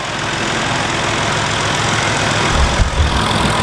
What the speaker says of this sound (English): pause here a minute for Saint's driving past